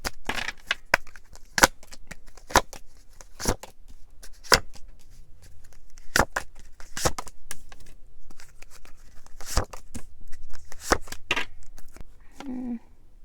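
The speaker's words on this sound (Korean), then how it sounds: "DM분들께서 DF분들 어떻게 생각하고 계실지 메시지 카드 뽑아볼게요" Tarot message cards are shuffled and drawn: sharp papery snaps and flicks at irregular intervals, close and fairly quiet, with soft rustling between them.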